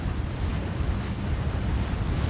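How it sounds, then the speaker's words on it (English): Waves washing on a lake below cliffs, a steady broadband wash mixed with gusty wind buffeting the microphone, with no one speaking. "Oh, here we go, some waves."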